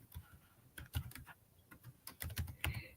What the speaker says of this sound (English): let's go and type in the word edification